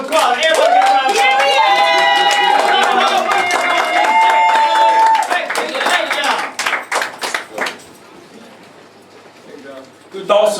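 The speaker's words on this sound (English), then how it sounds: "Let me start a round of applause" An audience claps together at a poetry writing session, a short burst of applause rising over music and voices before fading into a quieter room.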